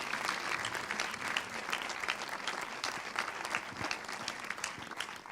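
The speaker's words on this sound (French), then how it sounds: "Et on peut les applaudir très très fort, s'il vous plaît." Audience applause fills the hall at the closing ceremony of the Saint-Jean-de-Luz International Film Festival, a dense, steady ovation that holds at an even level throughout with no voices over it.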